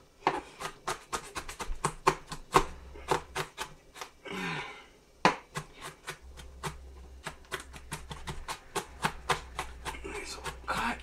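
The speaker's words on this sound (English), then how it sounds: "can't see a damn thing behind cutting onions" Kitchen knife chopping onions on a cutting board for homemade chicken soup, rapid close sharp knocks in uneven bursts with brief pauses and a short rustle in between.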